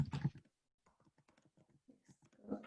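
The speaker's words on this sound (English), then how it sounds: "I'm just typing out" Someone types on a computer keyboard during a webinar Q&A, producing a sparse run of quiet, close clicks and taps after a brief louder noise at the start, with no talking over it.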